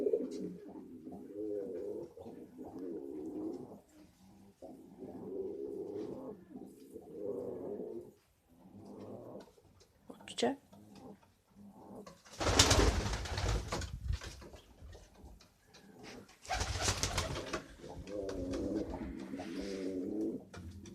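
Pigeons or doves cooing around a nest with eggs, soft repeated low coos through most of the stretch, broken by a couple of louder rustling flurries near the end.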